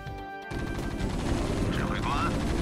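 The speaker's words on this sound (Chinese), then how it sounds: "炮火轰鸣，上上上，我们得走了。" Gunfire and artillery rumble in a war video game, with dense overlapping shots and booms building after a brief quieter moment, and faint voices woven into the continuous loud battle noise.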